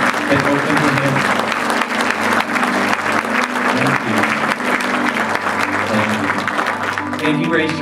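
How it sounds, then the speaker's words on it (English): A church congregation claps loudly and steadily in praise at the close of a Christmas sermon, with music and voices underneath throughout. "can we give the Lord just a clap of praise for hearts that have been open to him?"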